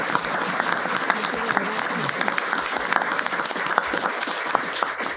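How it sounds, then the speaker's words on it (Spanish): Audience applause at a Spanish-language conversation program, steady dense clapping from a studio crowd filling the whole stretch at an even level. "Yo creo que este aplauso te lo mereces por este espacio de conversación."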